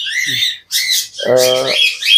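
Pet foreign-breed birds squawk and whistle in a few sharp, loud bursts close by, with short gaps between calls and a harsh rasping squawk in the middle.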